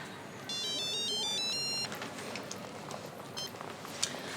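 An electronic telephone ringtone plays a bright repeating melodic pattern for about a second and a half, fairly clear and near, followed by quieter room noise with brief faint tonal blips.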